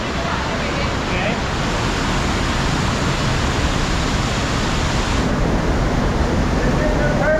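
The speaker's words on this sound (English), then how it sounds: "inside this cave, is a double waterfall" Two side-by-side waterfalls pour inside a mountain cave on Colorado's Mount Blanca, a steady loud broadband roar of falling water that fills the space without pause.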